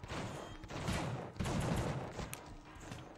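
Dense, rapid gunfire from The Suffering on PS2, a sustained fusillade of shots filling the whole stretch at steady loudness with a few sharper bursts, no voices over it.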